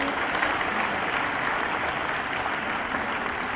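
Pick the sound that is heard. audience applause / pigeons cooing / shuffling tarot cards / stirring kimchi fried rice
audience applause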